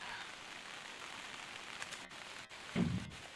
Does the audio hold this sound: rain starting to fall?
yes